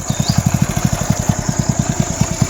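A motorcycle engine putters close by in a quick, even rhythm of low thumps, steady and unaccompanied by talk.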